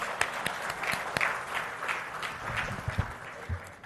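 Audience applause at a government presentation on rejuvenating the Musi River, attended by the Chief Minister; steady clapping from a crowd throughout with sharper individual claps standing out.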